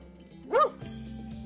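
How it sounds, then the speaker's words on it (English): A single short dog bark rises sharply and falls quickly, standing out clearly above a quiet background hum on a children's pet sounds recording. "Dog."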